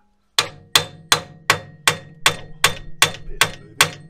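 A hammer strikes metal about ten times in an even, ringing rhythm during a Land Rover Freelander 2 wheel bearing rebuild, each blow sharp and loud with a short metallic decay.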